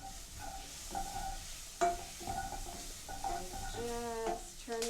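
Onions and freshly added garlic cloves fry in a hot pan, giving a steady sizzle broken by scraping stirs and a sharp clatter of utensil on metal, with some tonal ringing near the end.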